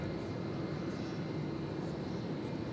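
Airbus A320 airliner at DFW Airport at night, heard as a steady, broadband jet roar holding even loudness throughout, moderately distant with no voices over it.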